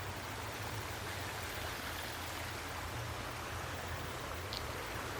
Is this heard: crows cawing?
no